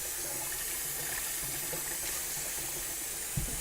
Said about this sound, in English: I'm going to go ahead and rinse these off